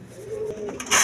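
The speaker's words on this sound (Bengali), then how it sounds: "এখানে এক পেয়ার দেখেন বোম্বাই কবুতর আছে" A pair of Bombai pigeons gives a short, soft coo, one low throaty note over light background noise. A brighter hiss rises right at the end.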